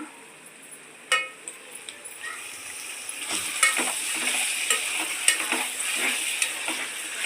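Tomatoes go into a hot pan with cloves, first a sharp clink, then a rising oily sizzle with scraping stirs and small clatters, close and steady with no talking.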